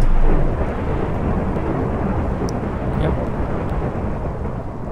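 A thunderstorm in a historically accurate castle siege simulator video game, loud rolling thunder and heavy rain forming a dense continuous roar, strongest at the start, with no voices.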